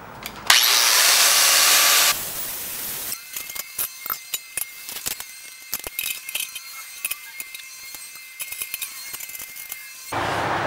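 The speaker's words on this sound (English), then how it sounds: "When welding galvanized steel, make sure you grind up all the galvanization so you don't get those zinc oxide fumes." The galvanized coating is ground off steel for a kiln in a loud, harsh burst of grinding lasting under two seconds, followed by scattered metallic taps and clatter before a short roar returns at the end.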